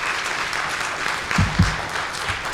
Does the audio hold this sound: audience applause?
yes